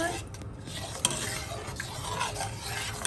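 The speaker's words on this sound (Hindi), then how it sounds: "so we will mix it well" A mixture being stirred in a pan, with continuous close scraping and a faint sizzle beneath it, steady throughout and with no voices.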